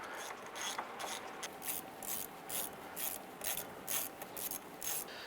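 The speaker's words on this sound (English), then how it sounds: "go ahead and grab your ratchet, and you can use these 3 bolts to evenly pull that hub into the knuckle" A hand ratchet draws the three hub bolts into the steering knuckle of a 2002-2007 Jeep Liberty, a quiet, steady series of rhythmic clicking strokes repeating close by.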